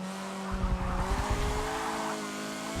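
A race car in Forza 7 loses traction, tyres squealing and skidding over a loud, revving engine for a few seconds with no break.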